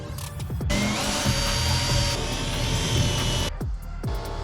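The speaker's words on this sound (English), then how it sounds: "We're just gonna semi-tighten them for a minute so we can drill the top holes." A power drill bores the upper mounting holes for a 25 HP outboard motor, running as one steady, loud whine for about three seconds, with brief start and stop moments and clanks around it.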